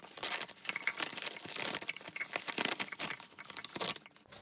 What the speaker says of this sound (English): let's see if I can get the tape off.